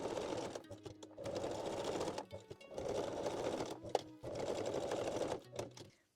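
A sewing machine runs in several short bursts, stitching the closure edges of a bralette with a straight or zigzag stitch, with brief pauses and clicks between runs, close and alone.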